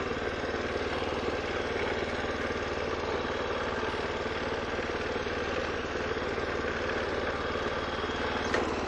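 Honda Iseki single-axle walk-behind tractor running steadily while reversing, a close, constant low engine drone with even vibration and no talking.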